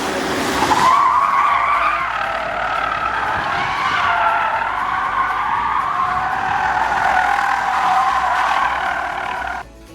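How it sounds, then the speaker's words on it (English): A Radar RD6 electric pickup, rear-wheel drive with traction control off, spins donuts and drifts as its tires squeal and skid in one loud, continuous wailing screech for nearly ten seconds, with no engine roar. "So you can do donuts or drifts like this if you turn off traction control."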